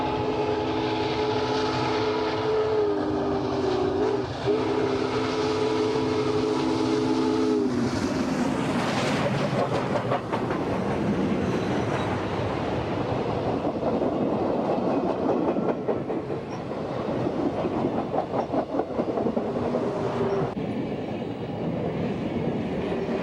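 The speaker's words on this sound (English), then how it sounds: "Here we see the 3985 battling the grade at milepost" Union Pacific 3985 Challenger steam locomotive climbs the 2% Sherman Hill grade with a loud, sustained horn blast at first, then a heavy, continuous roar of exhaust and rolling wheels that stays close and dense throughout.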